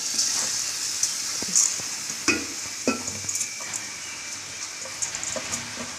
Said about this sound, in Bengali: এবার আমি চালটার মধ্যে